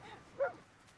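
In the Red Dead Online game, a dog gives a single short, faint yelp against quiet background hiss.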